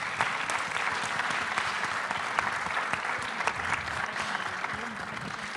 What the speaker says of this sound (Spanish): le pido un aplauso a nuestros panelistas